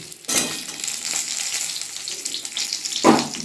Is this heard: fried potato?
yes